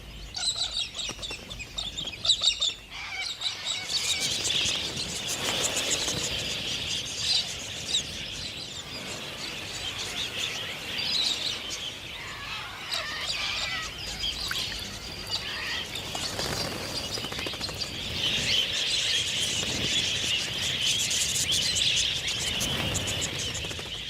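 A flock of galahs, Australian parrots, calls continuously with harsh, high screeches and chattering squawks, dense and fairly loud throughout, with no voices.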